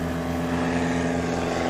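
Steady drone of a STOL airplane's propeller engine during a short takeoff at the Rocky Mountain STOL competition in Pinedale, Wyoming, loud and continuous with strong tonal harmonics and no talk.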